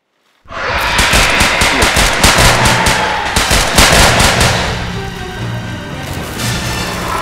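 Gunfire erupts in an action scene from Jurassic World: Fallen Kingdom, a loud rapid barrage of repeated shots that keeps going for several seconds over a low rumbling background.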